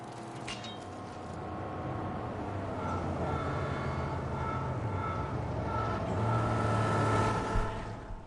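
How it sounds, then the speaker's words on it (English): A car approaches in the Mad Max video game, a steady droning engine rumble that holds and swells slightly, fairly loud and alone without talk. "I hear another car."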